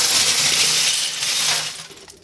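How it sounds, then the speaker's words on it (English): Lego parts poured from a container into a kitchen sink fitted with a small-holed drain strainer, a loud, dense clattering cascade of plastic pieces that runs for about two seconds and then thins to a few last rattles. "then you basically just dump all the Lego."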